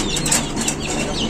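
A pigeon of an old breed flaps its wings close by, a quick burst of fluttering and rustling against steady background noise, with no speech.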